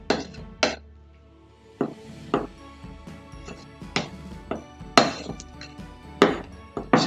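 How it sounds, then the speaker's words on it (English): Christmas cake mixture is stirred in a bowl, with a spoon knocking and clinking against the sides in irregular, fairly loud strokes at close range. "And stir the two together."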